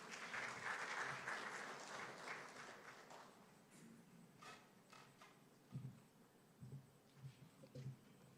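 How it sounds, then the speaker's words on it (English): Audience applause for a reverend at the opening ceremony of an annual conference, a dense burst of clapping that thins out into a few scattered, fading claps. "Give him a warm round of applause"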